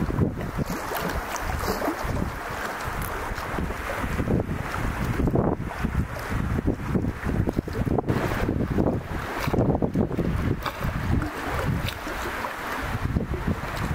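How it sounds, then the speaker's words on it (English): Strong wind gusts buffet the microphone while paddling a canoe up a narrow inlet, a continuous rough roar with choppy bursts and lapping water, no voices. "the wind is just funneled against me down this runway of water"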